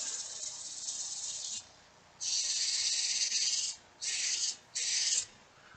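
Sandpaper rubbing a chamfer on a wood-turned piece, most likely spinning on a lathe, gives a steady hiss in close bursts. A long stroke is followed by a pause, then one long and two shorter passes.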